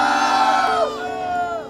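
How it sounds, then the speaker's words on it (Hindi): Wedding guests at a destination mehndi event in Kumbhalgarh shout and cheer together in a loud, sustained crowd roar, with whooping voices rising and falling. "लड़के वाले तैयार हैं तो थोड़ा चिल्लाएंगे"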